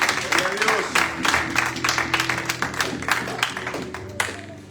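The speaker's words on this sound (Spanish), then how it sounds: "Denle un aplauso a Dios." Church congregation applauding together in a sermon hall, a dense burst of clapping from many hands that carries steadily for several seconds, fairly close, with voices mixed in beneath it.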